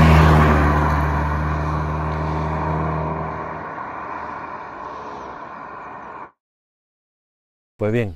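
Hyundai Kona N 2022, a 280 hp compact SUV, drives with a loud, steady engine drone and low rumble that gradually eases off, then cuts to silence before a brief burst of sound at the end.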